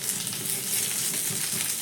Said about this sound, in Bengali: যে দিকটা পেঁয়াজের এই মশলাটা লাগানো আছে সেদিকটা কিন্তু হালকা করে একটু ভেজে দিতে হবে